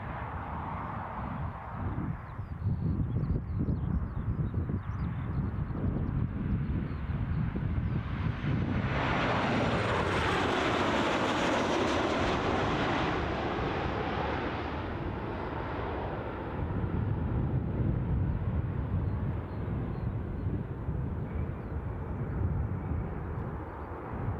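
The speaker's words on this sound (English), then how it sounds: "you just get a lot more of the actual aircraft noise" A plane at Newcastle International Airport, its engines building into a loud roaring whoosh that swells and pitches as it passes mid-clip, then settles into a sustained rumble mixed with wind buffeting the microphone.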